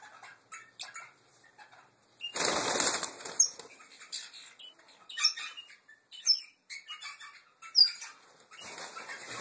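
Caged Red and Red Canela canaries in a breeding aviary flutter their wings in several loud bursts, with high chirps and tweets scattered throughout, heard up close.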